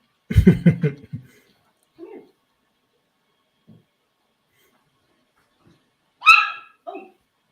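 A puppy barks and yelps several times close by, with short whimpering cries in between and a few quiet gaps.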